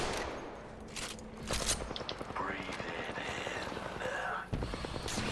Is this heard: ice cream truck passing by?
no